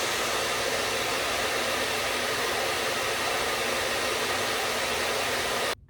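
A hair dryer blowing on curly hair, a loud steady broadband whoosh held close to the microphone for several seconds before it cuts off abruptly at the end.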